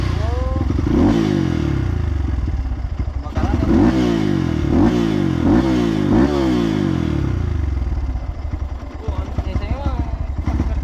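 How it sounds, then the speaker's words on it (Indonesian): Trail motorcycle running on Pertalite fuel on a wet, slippery off-road track, its engine revving hard in repeated surges with clattering and scraping, close and loud, while someone talks over it. "Ini motor kalau Pertalite dia pakai, dia tinggi-tinggi gasnya."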